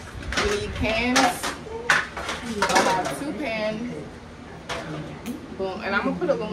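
Metal pans and kitchen cookware clatter and scrape as they are pulled out and handled, with repeated clanks and rattles over several seconds while people talk nearby.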